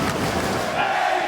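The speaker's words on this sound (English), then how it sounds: "Crowd chanting, Eddie Kingston." A wrestling crowd at a Ring of Honor show chants Eddie Kingston's name, a dense, loud wall of massed voices with dull thuds underneath, sustained through the whole short stretch.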